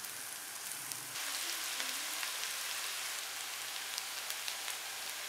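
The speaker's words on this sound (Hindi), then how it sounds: "प्याज को हल्का सा फ्राई करेंगे, सिर्फ इसको नरम करना है, इसको कलर नहीं देना।" Chopped onion frying gently in a pan to soften without browning, a steady soft sizzle and crackle throughout that grows a little fuller after the first second, with no talking.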